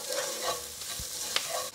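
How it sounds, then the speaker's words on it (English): Garlic frying in a pan with lightly golden vegetables, a steady soft sizzle with a few stirring scrapes and a brief clink, close and alone without talk. "Once it's lightly golden, I'm going to add in the garlic. Just give it a minute to cook through."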